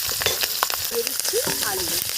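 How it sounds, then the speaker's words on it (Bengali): Black cumin seeds and green chilies sizzle and crackle in hot oil, a close, steady frying hiss with a few stirring scrapes. "তেলের মধ্যে দিয়ে দিচ্ছি কালো জিরে আর কাঁচা লঙ্কা ফোড়ন"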